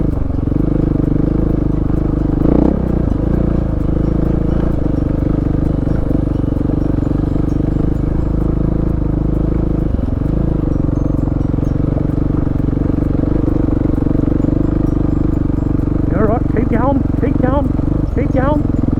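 A motorcycle ridden along a dirt track with a steady, droning engine hum throughout, close and fairly loud, with occasional rattles and a few brief chirps late on.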